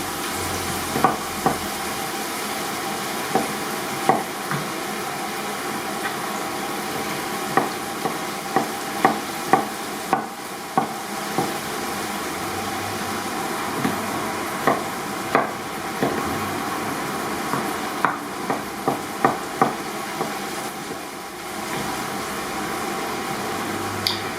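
Peppers fry in a pan for a Basque-style base, a steady bright sizzle under a constant kitchen hum, punctuated by regular clicks of a utensil stirring against the pan; no one speaks.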